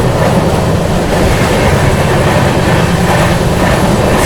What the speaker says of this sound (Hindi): कुछ ही देर में जो है अपनी पाटलिपुत्र सुपरफास्ट एक्सप्रेस स्किप करने वाली है विंध्याचल रेलवे स्टेशन को